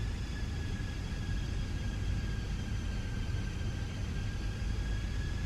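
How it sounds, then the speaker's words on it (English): A steady broadband airliner roar from the Fenix A320 flight simulator on approach in gusty storm weather, constant and even with faint high tones riding on top. "I mean, you can hear the airplane."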